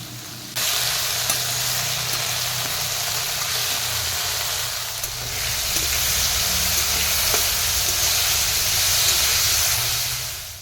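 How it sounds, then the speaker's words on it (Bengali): Okra fries in a hot pan with salt, giving a steady, close, hissing sizzle that holds throughout with no talking. "প্রথমে ঢ্যাঁড়সগুলো ভেজে নিতে হবে"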